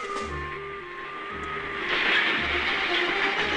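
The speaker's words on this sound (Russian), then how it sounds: "Поезд." A train rumbles past with a rhythmic low clatter of wheels and a steady tonal hum, growing louder and noisier toward the end.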